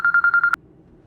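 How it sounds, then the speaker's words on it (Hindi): A phone rings with an incoming call: about five quick, evenly spaced electronic tone pulses, loud and close, that stop abruptly and leave quiet room hum. "ये तो मेरे ही नंबर से मुझे कॉल आ रही है।"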